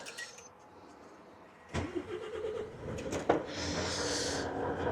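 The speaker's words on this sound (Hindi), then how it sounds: "अभी गाड़ी ले लेते हैं आगे।" A truck engine cranks and catches with a sudden burst, then idles roughly with rattling mechanical noise before pulling forward, close and fairly loud, with no talking.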